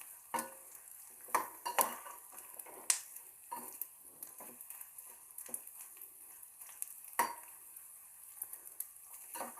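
Flaxseeds dropped in small batches into a pan over low heat, giving soft, scattered crackles and pops with the occasional scrape and clink of a stirring spoon, fairly quiet and close, with no talking.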